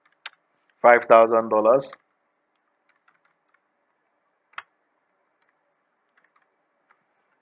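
A few sparse, isolated clicks come from a computer keyboard as a word is typed, faint and separated by long silences, with a short burst of speech near the start.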